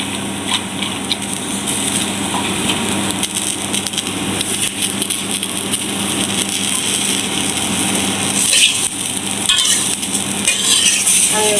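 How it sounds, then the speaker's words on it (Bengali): Ground spice paste for mutton biryani fries loudly in a pot, a dense, steady roar of sizzling with faint stirring scrapes and a brief clatter near the end, heard up close with no talking. "বাটা মশলা সব আমি এখন দিয়ে দিব।"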